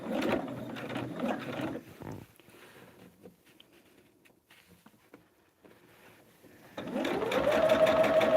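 A sewing machine stitches the corners of a blended fan quilt, running in two bursts at the start and end with a quieter handling pause between them.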